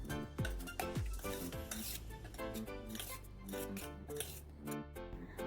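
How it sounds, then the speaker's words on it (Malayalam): Mango pickle ingredients for a sadya are stirred and mixed in a vessel, with close, irregular scraping and wet clinking of a spoon against the pot over a soft musical background. "ഇനി ഇതെല്ലാം കൂടി നന്നായിട്ട് മിക്സ് ചെയ്ത് യോജിപ്പിക്കുക"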